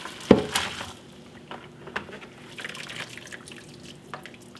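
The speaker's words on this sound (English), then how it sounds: "we're going to drain this spaghetti" Cooked spaghetti drained in a kitchen, with a splashy pour of water at the start followed by softer drips and trickles that fade away.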